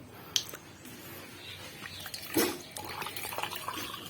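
Water poured out at close range in a home, alongside a container of salt, with a brief liquid splash and patter amid low background noise, no talk.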